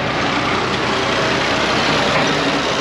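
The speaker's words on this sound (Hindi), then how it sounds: "अगले ट्रैक्टर वाले बार बार स्टार्ट कर डे" Tractor engines rumble in a dense, steady drone at a crowded sugar mill, the noise loud and continuous with no clear breaks.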